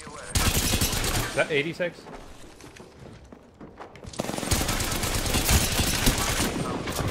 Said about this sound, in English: The enemies are shooting it.